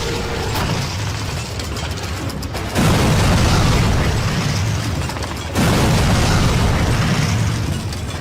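Placed bombs going off in the Call of Duty video game: loud, close, rumbling blasts that swell in two surges amid continuous battle noise.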